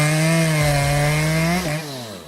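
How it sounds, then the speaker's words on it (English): A Makita EA7900PRZ1 chainsaw felling large trees gives a loud, steady, buzzing engine whine that holds for about two seconds, then dips and wavers in pitch near the end as it cuts. No one speaks. "The Makita EA7900PRZ1 offers unmatched efficiency when it comes to felling large trees."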